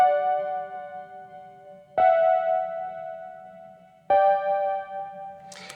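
Resampled song pitched up twelve semitones, a full octave higher, playing as sustained tonal chords with three sharp re-attacks about two seconds apart and a brief bright burst at the end, moderately loud with no talk.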